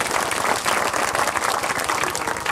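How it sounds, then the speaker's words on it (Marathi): Sustained audience applause at a kirtan during a village saptah gathering, dense clapping from many hands filling the room steadily and loudly throughout. "टाळ्या वाजवा एकदा"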